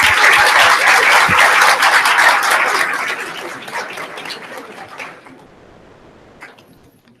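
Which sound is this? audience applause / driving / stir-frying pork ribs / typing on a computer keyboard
audience applause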